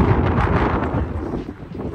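Strong wind buffets the microphone on a hike near Sai Beach, Khorfakkan, in a continuous low rumble, loud and close, with no talking.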